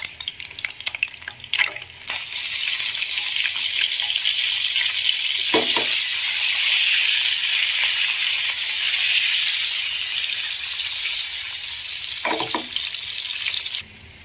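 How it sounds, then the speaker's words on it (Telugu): Eggs fry in a pan as turmeric goes in, a steady broadband sizzle starting after a couple of seconds of clatter and holding loud and close, broken by a few brief utensil knocks, with no talk. "ఎగ్స్ ఫ్రై అయ్యేటప్పుడు లైట్గా పసుపుని యాడ్ చేద్దాము"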